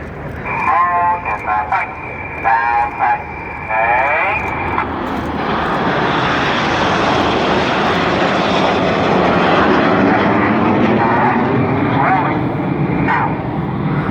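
Red Arrows jets fly the Twister manoeuvre at the Sunderland International Airshow. A loud engine roar builds and sweeps overhead, then stays strong and fills the rest of the stretch, while talk is heard early on.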